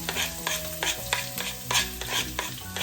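Onions and garlic frying in reused oil for Filipino pork belly hamonado, a steady close sizzle broken by repeated scraping stirs about every half second.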